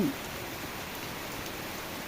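Steady rain pours down outdoors in a rural hill setting, a dense even hiss throughout with no talk.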